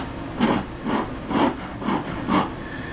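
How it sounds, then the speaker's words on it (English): A half round rasp is drawn across wood in five evenly spaced rough strokes, each a short scraping rasp close up, with quiet pauses between them. "This half round rasp, I think, is a little bit too rough."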